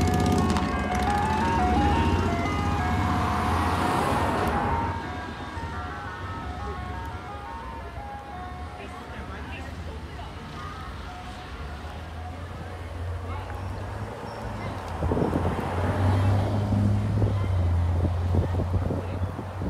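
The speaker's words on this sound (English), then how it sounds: "The truck that used to play Turkey in a Straw." An ice cream truck plays the fiddle tune Turkey in the Straw, its chiming melody carrying steadily through wind and passing road noise, loudest at the start and again near the end, with someone talking over it.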